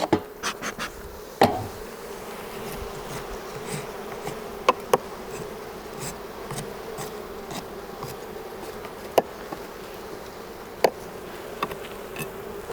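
Honey bees swarm around an old hive box with burr comb in a commercial honey operation, a steady close buzzing hum broken by a few sharp knocks and clicks from frame handling, with no talking.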